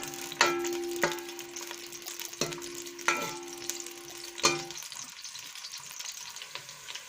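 Onions fry in hot cooking oil for a mixed vegetable dish, a busy close sizzle punctuated by about six sharp spoon strikes against the pan, with the frying fading near the end.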